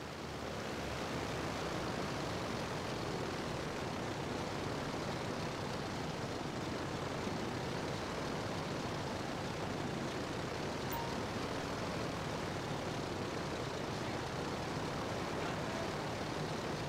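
A plane in GTA 5 Online gives a steady, loud engine drone with broadband roar that holds level the whole time, with no voices over it.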